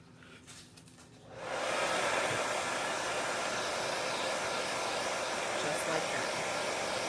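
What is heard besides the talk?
hair dryer blowing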